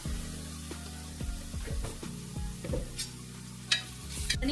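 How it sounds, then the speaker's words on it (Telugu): Onions browning in a hot pan with garam masala powder, a steady close sizzle broken by repeated scraping stirs of a spoon against the pan. "ఆనియన్స్ అన్ని బ్రౌన్ అయ్యే వరకు మనం వెయిట్ చేయాలి, మధ్య మధ్యలో కలపాలి"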